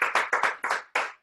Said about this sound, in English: Can we clap for Brian?